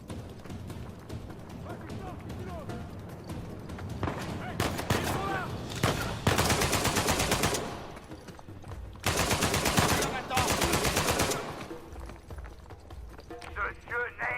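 AK rifle fire in the video game Uncharted 4 comes in several loud rapid bursts of automatic shots, separated by quieter gaps filled with footsteps, game effects and a speaking voice.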